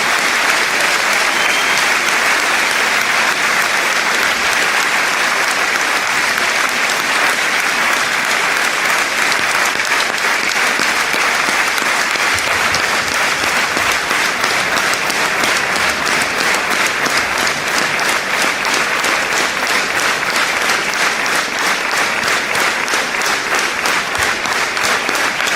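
Sustained audience applause at a party founding assembly, dense and loud throughout, a large crowd clapping steadily with no break.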